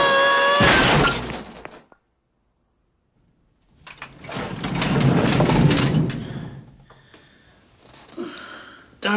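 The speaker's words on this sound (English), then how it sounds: "That was the sound of a tool chest falling down the stairs." A tool chest tumbles down a flight of stairs in a home setting, a burst of crashing and clattering impacts that builds, loud and close, then trails into scattered rattles, after an earlier sharp crash and a brief silence.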